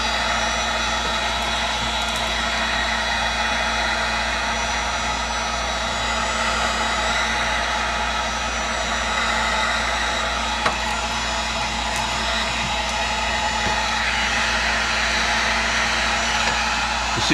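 Heat blower warming glue while restoring a Philco 38-7CS radio, a steady loud whooshing hum that holds level throughout, close to the mic with no talk.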